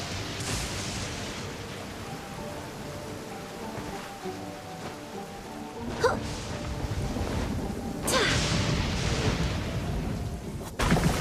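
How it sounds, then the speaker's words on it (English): Rain patters steadily in the video game Genshin Impact, a dense hiss of falling drops with some distant rumbling and a few sharp splashy accents, with no voices over it. "The rain won't slow me down."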